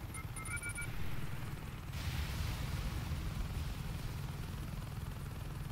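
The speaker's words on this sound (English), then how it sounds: "Send attack chopper on to me." An attack helicopter in Saints Row 2 thrums with a low, continuous rotor drone, quiet and steady, after a few brief electronic game beeps and a short rushing burst.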